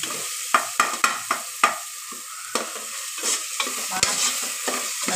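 Tomatoes frying in a pressure cooker for vegetable biryani, a spoon stirring and scraping through the pan in a quick run of sharp strokes and then slower ones, with a soft steady sizzle underneath and no talking.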